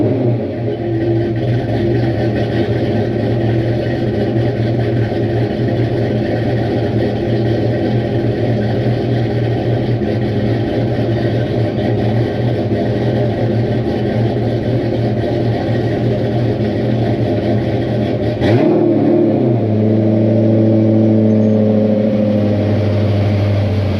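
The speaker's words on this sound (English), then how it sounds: "So let's fire this car up." A Porsche 993 Tiptronic coupe engine runs loud and close with a steady low rumble, then revs sharply near the end before settling into a higher idle.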